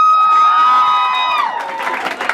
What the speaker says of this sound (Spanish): Aplausos para la número uno